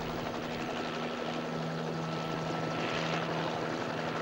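A helicopter in flight gives off a steady drone with a continuous rotor and engine hum. It is constant and unbroken, with no voices.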